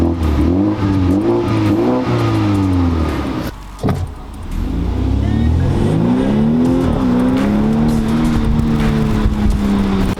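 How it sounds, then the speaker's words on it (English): Exhaust of a 2021 BMW M235i with a turbocharged 4-cylinder B48 engine, loud and close. It revs with rising and falling pitch, drops briefly to quiet, then pulls hard again through a long climbing acceleration. "let's hear the exhaust note. This is a 4-cylinder B48."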